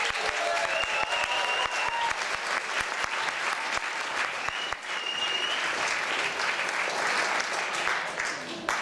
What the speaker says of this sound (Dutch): Neem nog een keer een groot applaus van de zaal in ontvangst